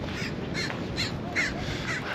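A crow caws repeatedly near the coast, with several harsh calls in a steady series over a constant bed of wind or surf noise.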